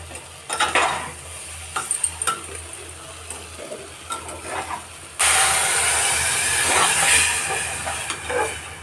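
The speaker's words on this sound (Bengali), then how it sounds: "সব কিছু ভালো করে ভাজা হয়ে গেছে, এবার এর মধ্যে টমেটো আর কাঁচা লঙ্কা দিয়ে দিলাম।" Vegetables fried with tomato and green chilli are stirred in a pan, with a scraping, sizzling stir that turns into a louder, steady hiss partway through. Close and continuous, with no talk.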